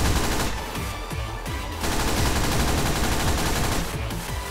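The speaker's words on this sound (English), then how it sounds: "So Shadow comes equipped with an AK." Rapid AK rifle fire in the video game Sonic: Lock & Load, dense continuous bursts of shots throughout with brief dips in intensity, loud and close.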